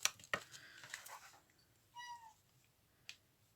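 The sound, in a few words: cat meowing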